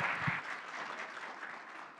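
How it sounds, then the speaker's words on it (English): An audience at a conference on agriculture applauds finalists of a young agripreneurs project, steady clapping filling the whole moment at moderate loudness with no talk over it. "Can I get another round of applause for all our 5 Yap finalists?"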